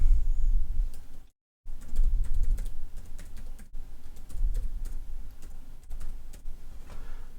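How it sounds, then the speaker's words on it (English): Someone types on a computer keyboard, with quiet, close key clicks in short irregular bursts and a brief silent gap near the start. "And then you want to type in your domain name."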